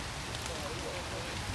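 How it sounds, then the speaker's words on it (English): Heavy rain pours down at an amateur cricket match, a dense steady hiss of drops with no breaks. "Rain coming down quite heavily."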